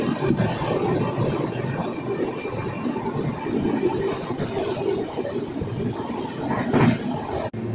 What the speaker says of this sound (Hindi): अब हमारी ट्रेन हरनौत रेलवे स्टेशन को स्किप करने जा रही है